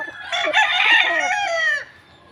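A gamefowl rooster on a game farm lets out one loud, close crow, drawn out for about a second and a half before it cuts off into quiet.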